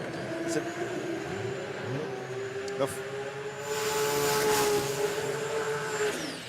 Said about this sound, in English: let's not interrupt this big burnout there, Zoran